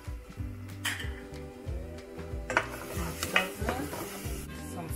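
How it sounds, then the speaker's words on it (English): Chopped onion goes into a hot pan for palak paneer, setting off a steady sizzle of frying under repeated stirring and scraping sounds, with a brief louder burst as the pan is worked; close and moderately loud, no talking. "And I'm gonna add chopped onion."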